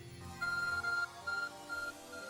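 Arc Phone in Pokémon Legends: Arceus giving a series of short electronic beeps, a steady tone in several bursts with low game music beneath.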